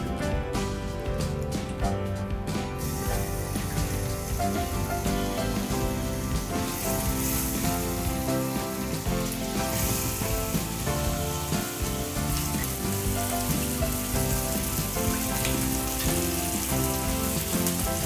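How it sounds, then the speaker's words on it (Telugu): Pieces of murrel fish fry in hot oil with a steady, dense crackling sizzle like heavy rain, loud and continuous from start to finish, with faint background music underneath. "ఆయిల్ హీట్ అయింది కదా, ఇప్పుడు మనం చాప ముక్కలు వేసుకుందాము."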